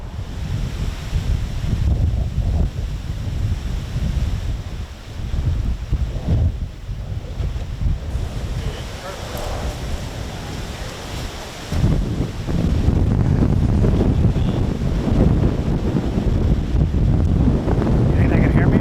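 Strong wind gusts buffet the microphone at sea aboard a fishing boat, with waves and surf rumbling loudly and steadily throughout the clip, swelling after a brief lull; a few voices are faintly audible underneath.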